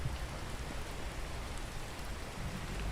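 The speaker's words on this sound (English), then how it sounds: "Oh, it's raining." Steady rain falls in a video game, a dense, even hiss of droplets that stays constant throughout with no talk over it.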